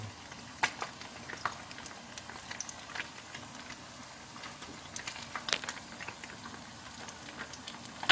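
Whole halfbeak fish deep-frying in hot oil, a faint, steady bubbling crackle with scattered sharp pops and spits, close but quiet, no talking.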